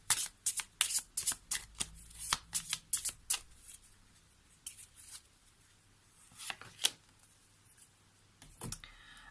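Lenormand cards are shuffled by hand for a daily card reading: rapid, close riffling bursts in quick succession, then a few sparser shuffles and taps after a pause, with no voices.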